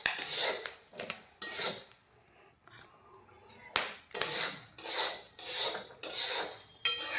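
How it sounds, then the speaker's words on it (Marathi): Chickpeas popping rapidly while being stirred through very hot sand in a pan, a rhythmic series of scraping, crackling bursts repeating about once a second, close and moderately loud, with a brief quieter pause partway through. "रेती खूप गरम झाली आता, त्यामुळे हे खूप फटाफट फुटायला लागतात"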